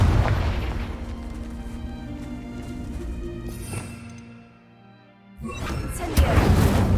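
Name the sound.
Bombarda and Confringo spell explosions, video game Hogwarts Legacy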